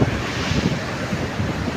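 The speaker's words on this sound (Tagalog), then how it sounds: "makikita niyo yung malaking alon" Rough, continuous rush of ocean surf with large waves near Sulangan lighthouse in the Philippines, heavy wind buffeting the microphone, loud and close throughout.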